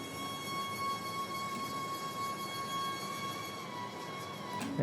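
An octave-up duplicate bansuri flute layer holds a steady, sustained tone, auto-panned fast in constant LFO motion, with a breathy airy texture and no talk.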